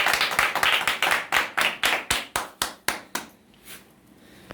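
An audience gathered for an evening event claps to welcome a guest: about a dozen loud, regular synchronized claps that fade after three seconds, then scattered softer claps.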